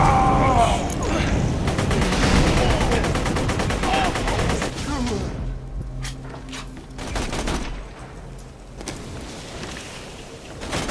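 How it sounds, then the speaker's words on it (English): Sustained gunfire from the video game Borderlands 2, a dense fusillade of rapid shots and booms, loud and continuous before thinning into scattered bursts and mechanical clatter; a voice talks briefly over it. "What the hell is shooting at me?"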